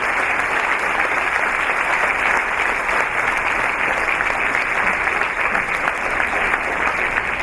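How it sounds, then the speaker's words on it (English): Audience applause for Swayamsevak volunteers at a community event finale, dense sustained clapping from a large crowd, steady and loud throughout with no break. "Once again, please give them a round of applause."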